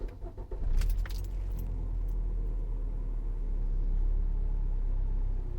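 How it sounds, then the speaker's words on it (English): Car keys jangle up close, and then the engine starts and settles into a steady low idle rumble that continues to the end, with no talking. "I'm gonna go ahead and turn the vehicle on."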